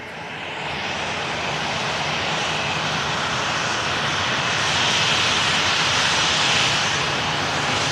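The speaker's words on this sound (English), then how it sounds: "737-800 on the taxi out as well." A Sunwing Boeing 737-800 jet taxis out at an airport with a loud, continuous engine roar and high whine that holds steady and swells slightly toward the end.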